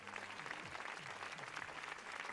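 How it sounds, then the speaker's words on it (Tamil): A studio audience on a Tamil television game show claps in a steady, dense burst of applause, fairly distant and even throughout, with no voices over it. "மிகப்பெரிய கைத்தட்டு."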